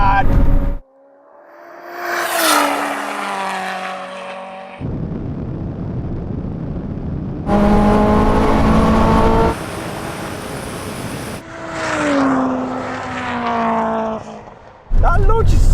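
Toyota Supra with a 2JZ engine and a ZF 8-speed gearbox swap launching hard, loud engine roars in separate bursts with quick gear changes and abrupt cuts, crowd-like voices and noise between pulls.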